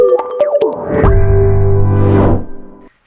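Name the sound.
notification bell ding sound effect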